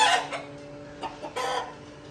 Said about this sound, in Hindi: हमने ये मुर्गा पकड़ लिया